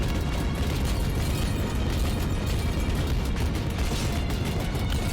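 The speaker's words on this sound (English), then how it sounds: "The explosion sounds stacking on each other." Overlapping explosions from split shots in a video game merge into an unbroken, thunderous wall of booms and pops, dominated by heavy low rumble and sustained at full loudness.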